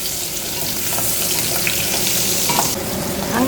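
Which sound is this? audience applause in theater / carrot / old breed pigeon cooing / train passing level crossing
carrot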